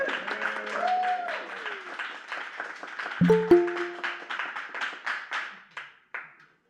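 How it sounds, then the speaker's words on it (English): A small audience at a game design talk claps in brief welcoming applause, many hands patting steadily before tapering off to a few last claps, with a couple of electronic tones midway. "Can we get a little welcome round of applause for Ethan?"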